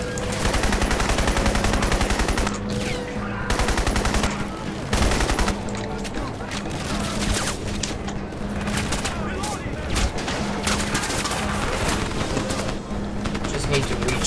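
Rapid automatic gunfire from the player's weapon in Crysis, long loud bursts of shots stopping and starting in irregular volleys across the whole stretch, with booms and a voice talking over the shooting.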